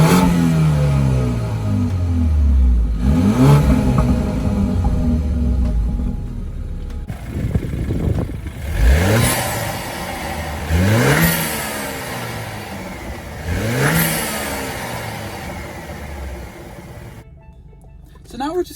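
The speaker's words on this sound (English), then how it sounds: "So now we're just going to take a little bit of a test drive around this little track that we have here." A BMW 328i engine revs and accelerates repeatedly on a test drive around a small track, rising through the gears in several loud, close sweeps.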